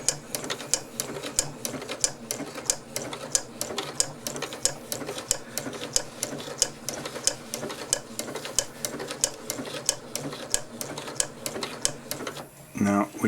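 A Janome 8077 sewing machine stitches with a Daisy Foot attachment at full speed, giving a rapid, even tick-tock clatter that carries on close up until it stops near the end.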